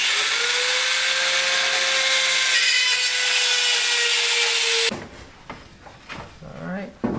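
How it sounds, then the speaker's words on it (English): A power drill whines steadily at close range for several seconds, drilling a mounting hole in a Toyota Tacoma front end, then stops abruptly, followed by quiet handling noises and a voice. "Just drill a hole real quick."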